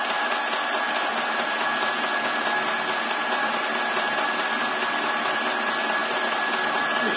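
A small metalworking lathe runs continuously with its gears whining in a steady, even drone and a thin constant tone on top, while brass is turned; no breaks or talk.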